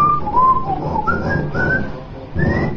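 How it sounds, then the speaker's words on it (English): A man whistles a short, clear melodic phrase of rising and gliding notes, loud and close, in a few separated bursts with no talking. "It's whistling."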